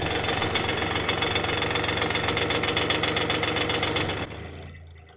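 The diesel engine of a Thwaites 1-ton mini dumper runs with a rough, loud mechanical clatter for about four seconds, then drops abruptly to a quieter low idle near the end.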